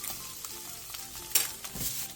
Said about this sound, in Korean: 계란이 익기 시작하면 사이 간격을 멀리 두고 볶아줘야 계란이 큼직하게 나와요